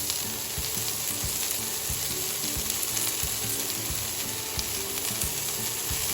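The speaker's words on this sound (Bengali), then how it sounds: "একটু করে শাক দিয়ে এটাকে নেড়ে চেড়ে দেবো।" Amaranth greens (note shak) frying and being stirred in a pan, a constant dense sizzle with a thin high whine, and periodic soft scraping knocks from the stirring spoon, close and steady throughout.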